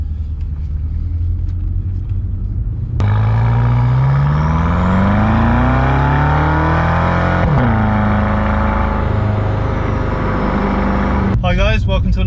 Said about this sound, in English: Pulling away in this thing is not the smoothest thing in the world.